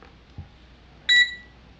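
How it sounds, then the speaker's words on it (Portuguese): A single short electronic beep, high and clean, from a Hikari HM-2090 digital multimeter powering on, sounds once after a faint click in a quiet setting. "Pequeno bip, ele foi ligado na amperagem"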